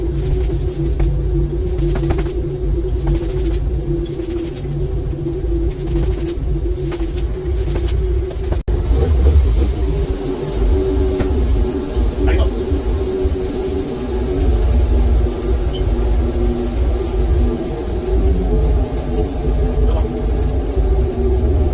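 A car engine idles steadily with a low, even rumble and hum that holds for about twenty seconds, close to the listener and fairly loud, with a brief knock midway and no talking.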